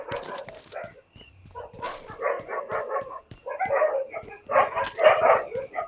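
A dog barking in a video game, a run of quick yips and barks in irregular bursts with short gaps, fairly loud and close.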